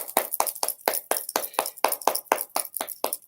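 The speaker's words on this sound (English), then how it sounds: "Everybody clap your hands." Hands clap in a steady, even rhythm, about four sharp claps per second, loud and close with no talking over them.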